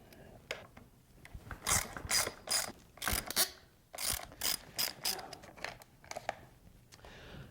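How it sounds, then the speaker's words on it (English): Allen wrenches ratchet and click while motocross hand guards are taken off a dirt bike's handlebars, a close run of sharp metallic clicks and rattles in irregular bursts with no speech. "Mine just takes some Allen wrenches. I'll pull this off very quickly"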